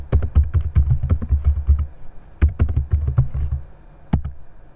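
Rapid typing on a computer keyboard, with dense bursts of close, loud key clicks, a brief pause, then another quick run of keystrokes.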